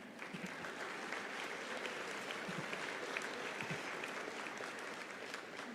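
A graduation crowd claps steadily and densely for several seconds, a broad wash of hands at moderate distance without letting up.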